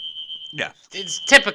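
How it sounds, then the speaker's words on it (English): A building fire alarm sounds as one steady, piercing high tone for over a second, then cuts out as people talk over the fading noise. "that is the fire alarm going off in our building"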